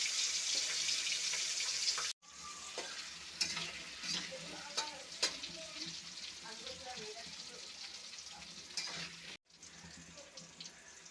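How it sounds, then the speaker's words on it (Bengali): Koi fish coated in turmeric, salt and chili powder frying in a pan, a soft continuous sizzle with scraping stirs and crackles, faint and close with two brief cuts. "মাছগুলো ভেজে নেব।"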